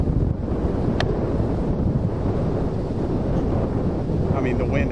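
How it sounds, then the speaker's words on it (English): Strong wind gusts roar across an open golf course on the PGA Tour, a steady loud buffeting broadband rush that fills the whole clip, with a brief sharp click near the start. "the wind absolutely gusted."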